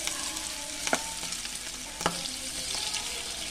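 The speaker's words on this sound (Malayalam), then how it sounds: "ഒരു കടായി ചൂടാക്കി ഓയിലൊഴിക്കുന്നുണ്ട്. ഇതിലേക്ക് നമ്മൾ നേരത്തെ മാരിനേറ്റ് ചെയ്ത് വെച്ച ചെമ്മീൻ ഇട്ട് കൊടുക്കാം." Marinated prawns fry in hot oil in a kadai, with a steady, close sizzle and a couple of sharp spatula clacks as they are stirred.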